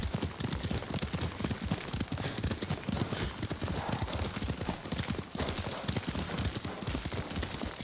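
Horse hooves clip-clop at a steady riding pace in the Ghost of Tsushima video game, a dense, continuous run of close hoofbeats over a loud background of wind and ambient game sound.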